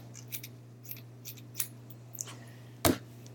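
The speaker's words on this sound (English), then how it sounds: "all I do with my tulle is I cut a nice square" Scissors cut a square of tulle, a few quiet snips close by with one sharper, louder snip near the end, against a low background hum.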